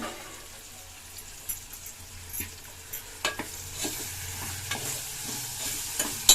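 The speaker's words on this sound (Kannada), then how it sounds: "ಈ ಕಡೆ ಸಾರು ಬೇಯ್ತಾ ಇದೆ ನೋಡಿ, ಇನ್ನೇನು ಕುದಿ ಹತ್ತಾ ಇದೆ." A pot of village-style massoppu saaru, a greens curry, comes to the boil, giving a soft steady bubbling and sizzling with small irregular pops and light clinks, heard alone without voices.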